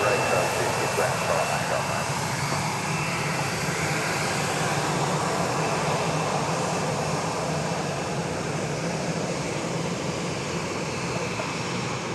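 Southwest Boeing 737-700 jet departing Dallas Love Field at night, a broad steady roar of engines holding loud throughout with no clear rise or fade.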